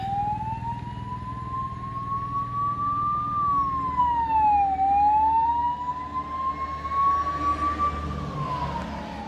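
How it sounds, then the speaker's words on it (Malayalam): A wailing ambulance siren sweeps up and down steadily, loud and close, over a low rumble of traffic, on a road trip to Munnar. "ആ ഒരു ആംബുലൻസ് വരുന്നുണ്ട്"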